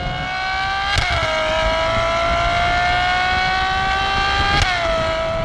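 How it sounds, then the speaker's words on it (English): Ferrari 812 Superfast with its 6.5 litre engine screaming at high revs: a loud, sustained, rising engine note heard up close, broken by two quick gearshift blips that drop and recover the pitch, with no voices. "I can't imagine that the replacement engine would sound anything like this."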